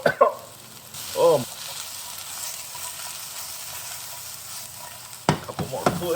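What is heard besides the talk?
onions and garlic frying in a pan for Beijing beef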